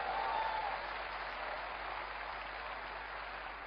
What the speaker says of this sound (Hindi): जोरदार ताली अपने आप के लिए दोस्तों